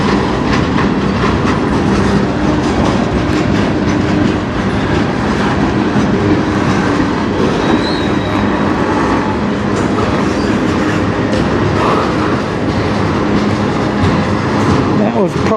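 A CN freight train rolls steadily past on the Strathroy Subdivision near Sarnia, Ontario, loud and close, with continuous rumble and rhythmic clickety-clack of wheels over rail joints for the whole stretch.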